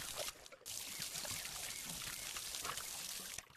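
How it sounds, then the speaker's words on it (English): Watering can pouring water in Garden of the Sea, a steady splashing pour that runs for a few seconds with a brief break near the start, close and fairly clear. "I love the sounds and how it works with this thing. Watering can."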